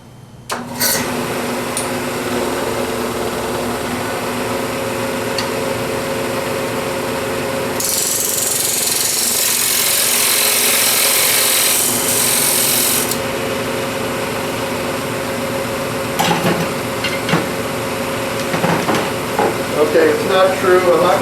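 Wood lathe spinning a platter blank while a tenon is cut, a steady whirring hum with scraping tool noise, a harsher cutting burst midway, and someone talking over it.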